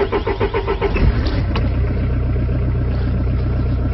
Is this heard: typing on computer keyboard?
no